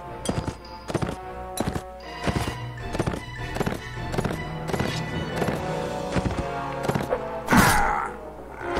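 Rhythmic hoofbeats of a galloping horse in the video game Mount & Blade: Warband, steady thuds with musical tones underneath, ending in a louder burst near the end.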